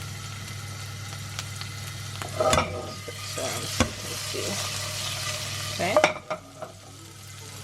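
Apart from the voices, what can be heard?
garlic and chili frying in oil for ramen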